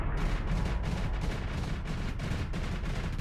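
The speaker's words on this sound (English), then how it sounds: "it really does just do like an AoE explosion" Supernova area-of-effect explosion in the space game Starsector, a dense, continuous roar of blasts and rumbling booms that fills the whole moment without letup.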